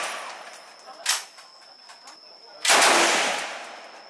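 Gunfire at a shooting range in Vietnam, heard as a sharp shot followed by a louder, longer blast with a ringing tail, both close and loud.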